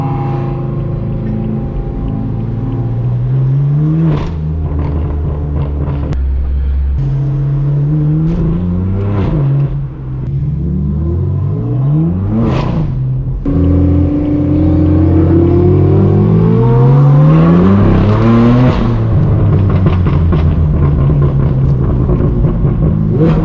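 A straight-piped BMW M4 F82 on a city drive, its loud raw exhaust droning and rising through repeated revs and gear changes, close and continuous, with blips and crackles between pulls.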